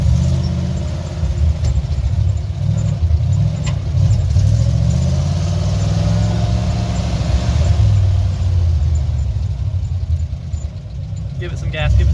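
Engine of a 1957 Chevy 5400 truck with its spark advance being adjusted, a loud low rumble that swells and eases as it is revved, with people talking over it.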